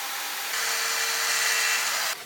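A power tool cuts through large wooden slab pieces, a loud steady high-pitched whine with a constant hum under it that builds partway through and cuts off near the end.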